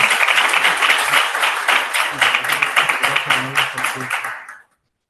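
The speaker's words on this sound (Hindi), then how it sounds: "तालियां बजा दो।" A church congregation claps in a brisk burst of applause that tapers off and cuts to silence, with a voice speaking over the later part.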